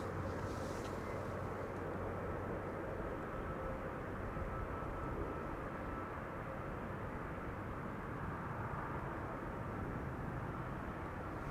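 A DHL cargo jet taxis at Amsterdam Schiphol Airport, a steady low engine rumble heard from a distance, faint and unbroken throughout with no voices.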